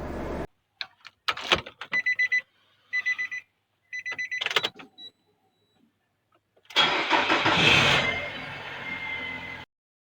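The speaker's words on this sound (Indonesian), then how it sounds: "Oke, ini nggak saya gas. Mobil jalan." A used car, 2010 or newer, starts and runs steadily for a few seconds without throttle after several short electronic beeps, fairly close and loud with no talking.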